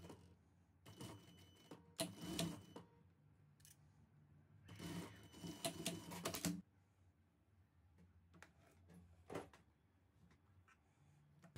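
A sewing machine runs in two short bursts as it stitches a 1 cm seam allowance on a goose-pattern fabric piece, followed by softer scattered clicks and handling noises, close by with no talking.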